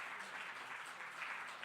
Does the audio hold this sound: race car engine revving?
no